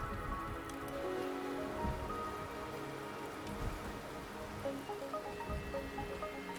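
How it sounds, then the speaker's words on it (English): Rain falls steadily in the video game Wuthering Waves, a constant patter of drops on surfaces with soft splashes, moderately quiet, with no voices heard. "The rain is subsiding"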